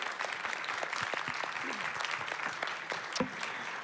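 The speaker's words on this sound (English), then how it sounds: "let's give Ramie and Shannon a round of applause" A small audience at a library author event applauds steadily, producing a soft, even patter of many hands clapping at a moderate distance for a few seconds.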